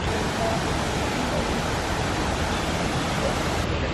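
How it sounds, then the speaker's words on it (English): Minnehaha Falls waterfall heard as a steady, loud broadband roar of falling water that holds constant throughout with no voices. "I'm guessing that's the waterfall that they wanted us to see."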